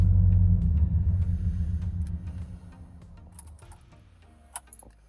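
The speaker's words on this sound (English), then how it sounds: "Hear that real nasty vibration." Scrap-built junkyard car engine running with a nasty vibration, a loud low throbbing rumble that fades over several seconds as the engine winds down, with small ticking and clicking noises near the end.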